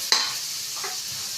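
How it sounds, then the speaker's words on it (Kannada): Shredded cabbage frying in oil with a steady close hiss, plus a brief stirring scrape near the start. "ಈಗ ಫ್ರೈ ಆಗ್ತಾ ಇದೆ ನೋಡಿ."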